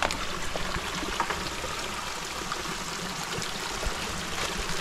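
A stream in the countryside flows steadily, with a continuous close, moderately soft rush and trickle of water and no voices.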